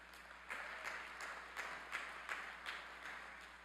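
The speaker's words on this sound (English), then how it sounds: "Would you please give them a round of applause?" Scattered, sparse clapping from a commencement ceremony crowd at Southern Illinois University Carbondale, quiet and distant, with individual claps spaced irregularly across a low hum.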